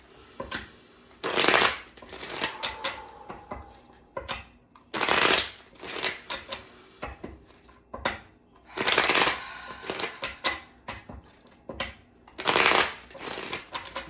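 Tarot cards shuffled in repeated bursts of riffling and flapping, each a second or two long with quiet gaps between, close and fairly loud with no talking.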